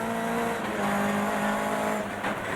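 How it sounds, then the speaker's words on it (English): Race car engine at the 2007 Dunlop Supercar Championship, loud and close, droning steadily as the driver drops a gear at the first apex, with the engine note stepping down and holding before the throttle returns. "You hear him just dropping a gear at the first apex."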